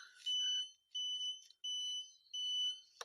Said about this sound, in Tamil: இண்டிகேட்டர்லாம் ஆன் பண்ணி காமிக்கிறேன்